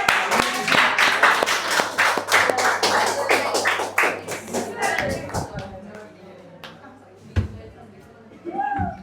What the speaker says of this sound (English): Very big round of applause for them.